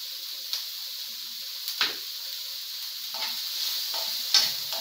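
Onions frying in a pan with salt, a steady bright sizzle broken by a few scraping stirs of a spoon against the pan, close and alone without voices.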